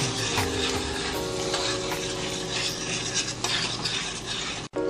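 Beef being stirred in a hot pan with gravy while cooking a beef noodle pasta, giving a steady, close sizzle and frying hiss with scraping and utensil clatter throughout, no talking.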